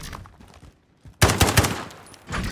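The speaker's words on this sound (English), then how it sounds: "you can actually shoot it pretty fast" Rapid bursts of weapon fire from an SMG converted into a DMR in Call of Duty: Modern Warfare, a loud volley of several close shots after a quieter stretch of game ambience, with another burst starting at the end.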